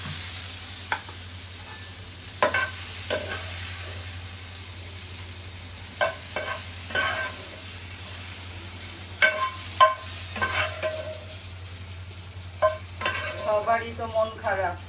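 Snakehead fish with potato, cauliflower and beans stir-fried in a pan: a steady low hiss broken by irregular scraping and clattering of a spatula, growing busier toward the end, heard up close with no talking.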